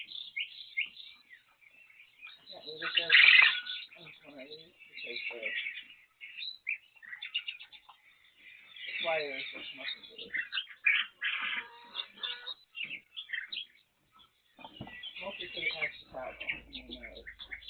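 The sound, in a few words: pet therapy birds cooing and chirping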